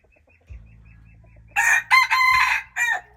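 A decoy rooster crows loudly and close by, with one long, strained crow broken into several bursts, after a low hum and a brief thump.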